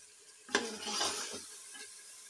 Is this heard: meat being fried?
yes